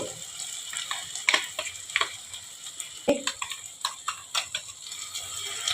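Paste of green chillies and onion frying in a pan for an egg omelette curry, a soft sizzle broken by frequent light ticks, taps and scrapes of a spoon, close and fairly quiet with no talking.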